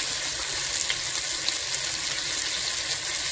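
Chicken thighs fry in a pan of hot oil and a little butter, giving a steady, close broadband sizzle with faint crackles that continues evenly throughout, with no talking.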